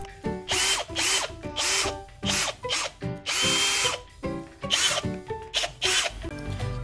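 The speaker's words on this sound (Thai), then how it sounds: "เดี๋ยวเรามาลองใส่กับตัวสว่านดูนะครับ" A cordless drill powered by a Bosch ProCore 18V 4.0 Ah battery whirs in a series of short, loud bursts, starting and stopping repeatedly with brief gaps between runs.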